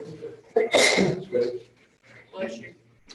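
During a budget meeting, a person sneezes once sharply and loudly in a room, with murmured voices before and after.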